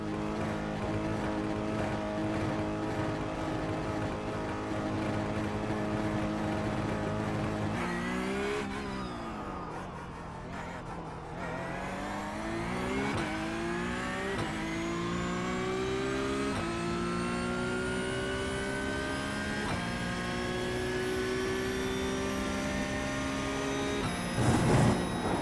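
A Porsche Cup race car engine in a racing video game on the Nürburgring screams at high revs, its pitch sweeping up through the gears, with a brief lift around a corner before climbing again.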